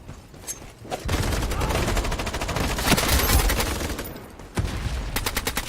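AK-47 gunfire in the video game IronSight, long sustained bursts of rapid automatic shots at full loudness, then a short pause and a final quick burst.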